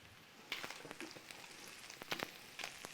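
Bacon fries in a pan with a dense, soft crackle and scattered sharper pops, steady and close, with no voices.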